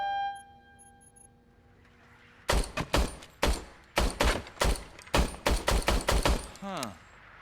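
Gunfire from a service weapon in the video game Robocop: Rogue City rings out as loud, sharp shots in uneven bursts after a quieter start, ending in a falling electronic whine.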